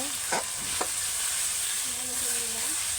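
Ginger is stirred as it fries in a pan, giving a steady broad sizzle with a couple of brief scraping strokes near the start and a faint tonal hum in the background.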